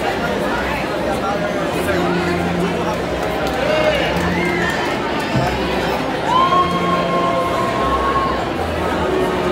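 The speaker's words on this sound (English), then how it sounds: "they're cheering everybody up. They're getting everybody excited" Loud crowd noise fills a large indoor arena at a Medieval Times show in Buena Park, California, a steady roar of voices and chatter with occasional whistles and shouts rising above it.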